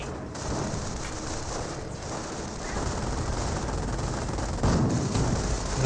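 Machine gun fire in the Company of Heroes real-time strategy game, with an armoured scout car shooting at a Jeep: dense continuous rattling bursts mixed with heavy battle noise, steady and loud throughout.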